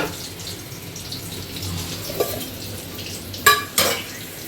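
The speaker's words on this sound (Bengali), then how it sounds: "এটা হচ্ছে ওই আলু পেঁয়াজ আর মাছের তেলটা ভাজা" Quiet sizzle of potatoes and onions frying in a little fish oil in a pan, with two sharp metallic clinks of a utensil against the pan near the end.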